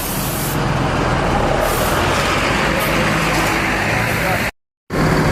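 An intercity INS bus pulling away from a stop at Pondok Pinang, Jakarta, a loud, broad roar of engine and air hiss close by, cut briefly by a short gap before resuming.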